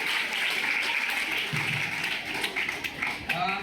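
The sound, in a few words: applause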